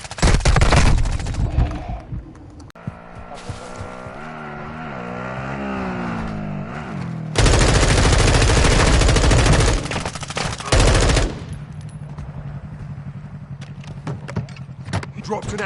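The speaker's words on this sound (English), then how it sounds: "You are taking effective fire." Loud gunfire in a video game crackles in dense, sustained bursts at the start and again in the middle, with a steady engine-like drone in between and a softer rumble continuing to the end.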